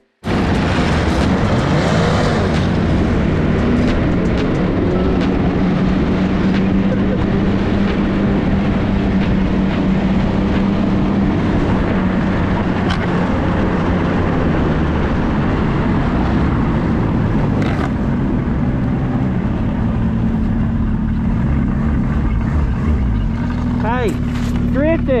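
Brand new snowmobile engine revving and droning loudly while riding through a small town, with shifting pitch as the throttle rises and falls, and a voice speaking over it near the end.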